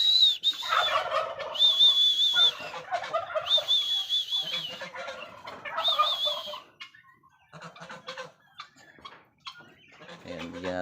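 Several turkeys gobble in loud, warbling bursts that repeat three times while being fed on a farm, with quieter clucks and a human voice faintly in the background.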